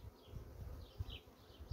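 Honey bees buzz inside a hive during frame work, a faint, steady droning hum with a few soft low bumps, heard without any talking.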